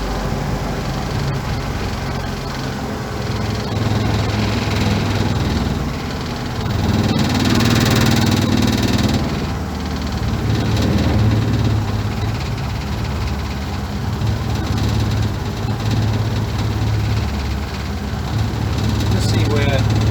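A Land Rover Series 2a long-wheelbase engine runs steadily at idle, a loud, even low rumble with slight swells throughout, while someone talks over it.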